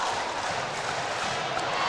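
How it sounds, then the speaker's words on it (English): Crowd noise fills the stands at a Kentucky 14th Region high school basketball semi-final, Wolfe County against Hazard: a steady, dense roar of spectators with no breaks, loud and continuous throughout. "Listen to this crowd, folks."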